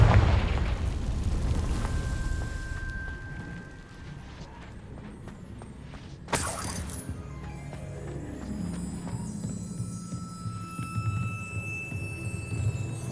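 A Confringo blasting curse goes off in the Hogwarts Legacy video game, one sharp loud burst about halfway through that fades slowly over a low game ambience with faint clopping hoofbeats.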